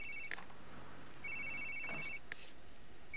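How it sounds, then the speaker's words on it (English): Incoming phone call ringtone in The Sims 3 video game, two short electronic trills chiming a second apart over a soft background hum. "Peter got a phone call."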